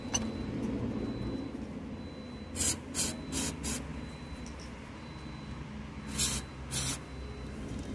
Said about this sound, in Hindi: तभी स्प्रे हम क्लीन कर लेंगे सॉकेट को